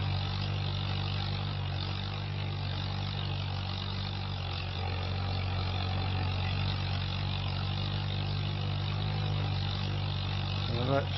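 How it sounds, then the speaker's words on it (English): A tractor engine idling steadily while drilling winter crops on a farm, a continuous low throbbing hum at moderate distance with little change in pitch, and a person talking faintly under it. "Tractor does sound nice."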